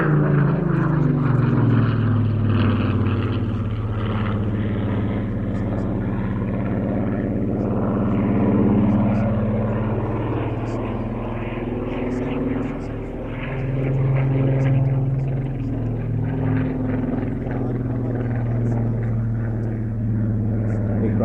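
Supermarine Spitfire flying at an air show, its aircraft engine giving a loud, continuous deep droning roar that swells and fades slightly as it passes, with no talk over it.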